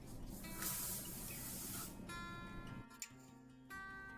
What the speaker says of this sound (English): When we use a hairspray